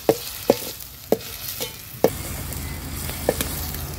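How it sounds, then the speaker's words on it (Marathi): Finely chopped large onion sautés in oil in a pan on a village wood-fired stove, a low sizzle punctuated by about six sharp clacks of a spatula striking the pan as it's stirred. "आता हा बारीक चिरलेला जो मोठा कांदा आहे तो ऍड करणार आहोत। कांदा पण छान शिजवून घ्यायचा आहे आपल्याला।"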